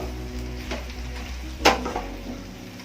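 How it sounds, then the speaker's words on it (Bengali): Okra and potato dry curry being stirred in a pan, with a soft scraping and a sizzle running underneath and one sharp spatula clatter against the metal partway through. "এবার ঢাকনাটা তুলে ভালোভাবে নেড়ে দেব"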